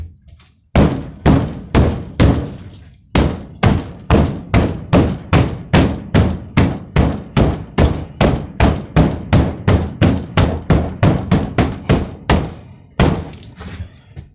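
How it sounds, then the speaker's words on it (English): Repeated heavy thuds from pounding on hung OSB plywood sheathing in a print shop. Strikes land about twice a second in a steady run, with brief pauses near the start and end; loud and close, no talk. "pound on the plywood like that"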